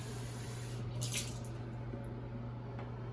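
Water poured from a measuring cup into yeast dough for a Roscón de Reyes, a short soft splash and trickle lasting about a second over a steady low kitchen hum, with no talking.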